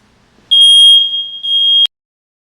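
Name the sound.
smoke detector test alarm beeping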